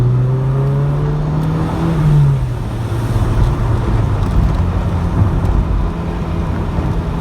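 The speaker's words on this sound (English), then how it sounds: "I'm just going to overtake this bus." A Mk2 Vauxhall Cavalier accelerates to pass a bus, its engine note rising in pitch and then settling into a loud, steady drone with road and wind noise and no talking.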